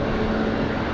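A fixed-wing airliner roars down runway 5 Left at Raleigh-Durham International on its takeoff run, a loud, steady broadband engine rumble that stays constant and close.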